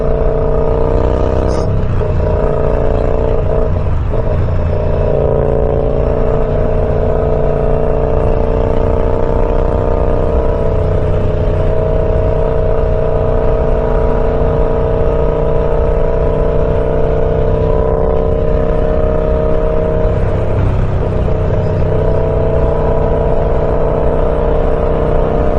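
A car called Evil Ethel drives onto a highway, its engine droning steadily with a continuous road roar and a faint rise in revs, close and loud throughout with no talk.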